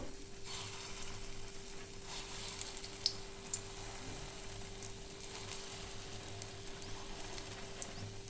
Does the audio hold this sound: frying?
yes